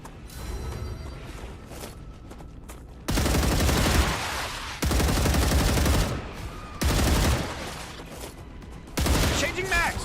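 Bursts of automatic gunfire from the sci-fi shooter StarRupture, loud and repeated in several separate volleys with pauses between them, while a player speaks over the quieter stretches.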